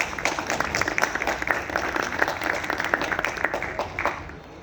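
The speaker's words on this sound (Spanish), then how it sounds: "Cedo la palabra a Josemar Castilla, quien recibimos con fuertes aplausos." Audience at a book fair lecture on Kant's aesthetics applauding to welcome a speaker: several seconds of crisp, fairly loud individual hand claps forming steady applause, thinning out near the end.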